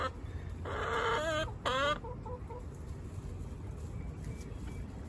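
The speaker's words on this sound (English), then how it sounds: "What is going on with the chickens?" Chickens cluck and squawk in a short burst of rising, stuttering calls, then quieter clucks fade against low outdoor rumble at an urban goat farm.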